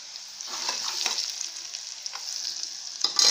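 Tomato chutney with chilli powder fries in a pan, a steady close sizzle with soft stirring scrapes running throughout and no talking.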